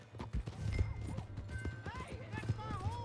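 Rhythmic hoof clip-clops of a horse in Red Dead Redemption II under background game music and scattered voices, with a brief whinny.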